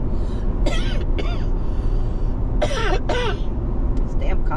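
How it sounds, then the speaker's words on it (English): Several harsh coughs and throat-clearing bursts from a post-surgery cough come in two clusters, close and loud, over a constant low rumble of background noise. "This damn cough from the surgery."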